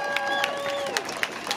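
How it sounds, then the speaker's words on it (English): Crowd at a protest applauding and cheering together, a dense wash of clapping with sharp bursts rising through it, voices mixed in at close range. "So give yourself a round of applause"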